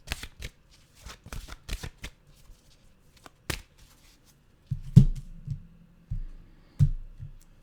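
Oracle cards shuffled by hand, a run of crisp riffling bursts and soft taps early on, then quieter card handling with a few low thumps, close and fairly quiet with no talk.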